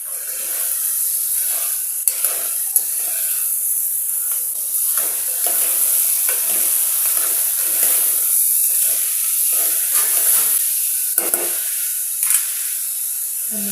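Potatoes and vegetables frying in a pan give a steady loud sizzle and hiss, dotted with occasional sharp crackles and pops, with no voices.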